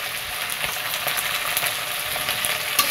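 Turmeric, cumin powder and chilli fry in oil with a bright, continuous sizzle and occasional stirring scrapes. The sound is close and has no talking over it.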